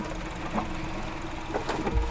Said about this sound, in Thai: ตอนนี้รถสตาร์ทอยู่นะครับผม